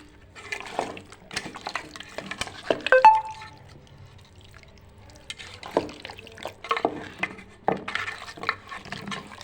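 Mutton being stirred together with turmeric and masala in a pot, giving wet, squelching scrapes and intermittent clinks in irregular bursts, close and moderately loud with no talking.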